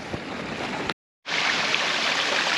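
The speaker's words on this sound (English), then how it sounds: "And there's one of the waterfalls." Dense, roaring rush of a waterfall in Shetland, Scotland, loud and constant, briefly cut to silence before resuming.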